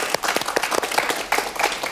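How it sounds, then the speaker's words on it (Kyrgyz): Applause from a studio audience on a Kyrgyz television talk show greets an introduced guest, a steady patter of many hands clapping at moderate loudness for a couple of seconds. "кол чабуулар болсун"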